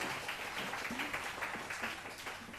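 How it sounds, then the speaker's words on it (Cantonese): A crowd at a Cantonese Christian family testimony gathering gives steady applause to welcome Jody, a dense, even patter of clapping with faint voices mixed in. "俾啲掌聲鼓勵下佢先"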